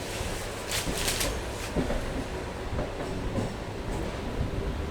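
A Howrah to Belur Math local train runs along the line with a steady, loud rumble and rattle heard from inside the carriage.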